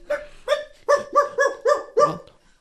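A dog barks about seven times in a quick, fairly regular series, loud and close, with each bark sharp and clear and no voices over it.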